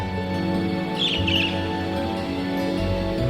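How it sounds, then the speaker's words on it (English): A strange bird perched on a lamppost chirps in the game Trails of Cold Steel. Two quick, faint twittering bursts rise over a steady hum of ambient background music. "I was distracted by a strange bird sitting on that lamppost."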